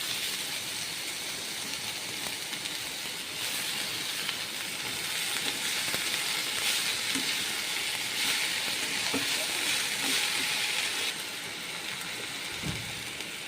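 Kulekhara greens sizzling steadily in a hot pan, a continuous bright hiss with slight swells as the leaves settle in, with no talking over it.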